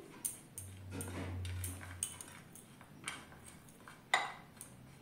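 Nuts, raisins and tutti frutti are stirred into flour in a bowl for a fruit cake, giving soft scraping and light clinks of a spoon against the bowl, quiet and irregular with a few sharper taps.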